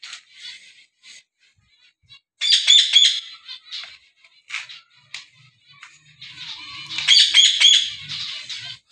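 Finches in a master cage chirp and squawk in busy bursts, close and loud, with quieter gaps of softer tweets between two dense flurries.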